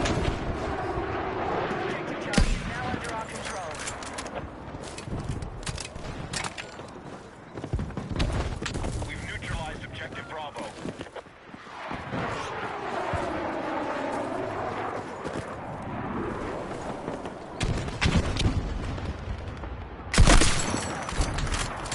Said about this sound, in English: That fucking explosion, though.